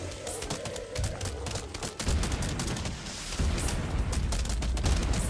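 In Plants vs Zombies Fusion, plants shoot in a dense, continuous barrage of popping, thudding shots that builds and stays loud throughout.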